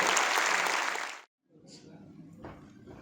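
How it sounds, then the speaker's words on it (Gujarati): A hall audience bursts into loud, dense applause welcoming a guest at a Lions Club International felicitation ceremony at Sayajinagar hall. The clapping stops abruptly after about a second, then a voice speaks. "જોરદાર તાળીઓથી આપણે પહેલાં એમને બોલાવીએ"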